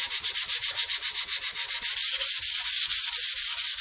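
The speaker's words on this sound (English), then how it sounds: "So what we're doing is sanding off the dye from the flat grain." Rapid, rhythmic hand sanding with 180 grit sandpaper on the dyed flat grain of a black guitar body, loud close scratching strokes in an even back-and-forth pattern, no talking.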